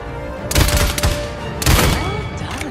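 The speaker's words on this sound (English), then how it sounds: "Your primary weapon is your assault rifle." Assault rifle fire in the video game Paladins, two loud bursts of rapid shots about a second apart, each a tight cluster of sharp cracks against steady game background sound.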